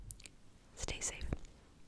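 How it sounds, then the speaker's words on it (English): Chewing gum worked softly and close to the mic, with moist smacks and clicks spread across a quiet, whispered setting. "so I'm also chewing."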